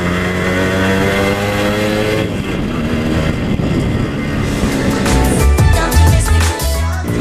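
A fully restored Yamaha RX-100 two-stroke motorcycle engine runs steadily up close, with a buzzing, harmonic-rich note that roughens and pulses toward the end as the throttle changes.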